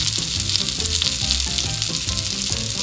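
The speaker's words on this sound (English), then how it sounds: "The sizzle's not as loud" Fresh-caught tuna sizzling in butter in a hot pan, a steady close crackling hiss with faint bubbling and no voices.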